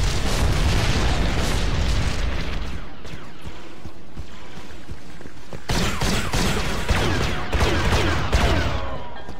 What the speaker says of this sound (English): orbital strike of some sort?